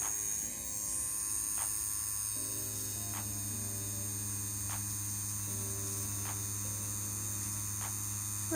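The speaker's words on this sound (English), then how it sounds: "the CNC Q2 should not need as high of a voltage to run a good line because it's a smaller motor" A CNC Q2 rotary tattoo pen with a small motor runs with a steady electric hum and buzz, joined by faint regular ticks at even intervals, with no talk.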